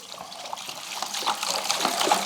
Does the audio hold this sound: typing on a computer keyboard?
no